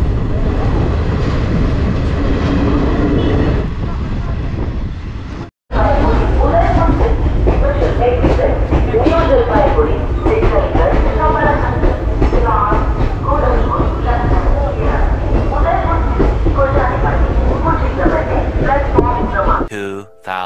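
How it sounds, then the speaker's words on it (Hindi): A passenger train on the New Jalpaiguri to Udaipur City run rolls steadily after departure, a continuous loud rumble with rhythmic rattling, broken by a brief dropout midway, with people talking over it. "ट्रेन अपनी खुल चुकी है 10 मिनट डिले से"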